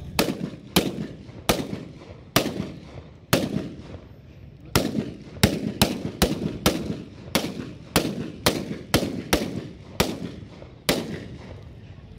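Ceremonial gunfire salute at a Republic Day parade in Berhampore, Murshidabad: about fifteen sharp, loud rifle volleys crack out one after another at roughly half-second to one-second intervals, each ringing briefly in open air.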